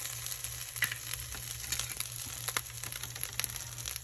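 Fried fish adobo with bay leaf and garlic stirred in a pan, a constant crackling sizzle under a hum, with quick clustered utensil scrapes throughout.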